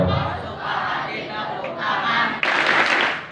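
A crowd clapping along to the children's song "Kalau Kau Suka Hati", rhythmic hand claps blended with cheering voices, loud and close, with a sharp burst of louder clapping and shouting near the end.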